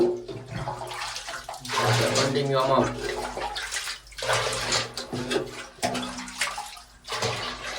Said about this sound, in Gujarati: આ ડોલ આવી ગઈ છે, નાને આપણે ભરવાની છે.